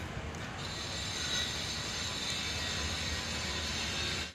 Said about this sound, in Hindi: तो रेलवे स्टेशन पहुंच चुका हूं मैं